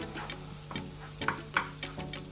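Garlic sautéing in a pan for Filipino vegetable spring rolls, a soft steady sizzle broken by several sharp spatula scrapes and taps at a loose rhythm, close and fairly quiet.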